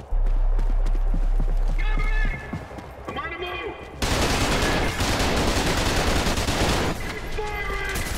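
Bursts of heavy gunfire from a gun with fierce recoil in the video game Trepang 2, loud rapid shots alongside game sound effects, with a voice reacting between volleys.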